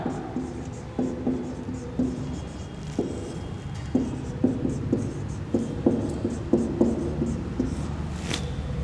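Chalk or marker writing on a classroom board during a Hindi grammar lesson, a steady run of short scratchy strokes in quick bursts, fairly close, with no one speaking.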